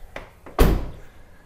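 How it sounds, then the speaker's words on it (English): A Tesla Model 3 rear door opens with a single solid thunk, preceded by two faint clicks of the handle and latch, in a quiet setting. "opening the rear door and making sure to leave it open"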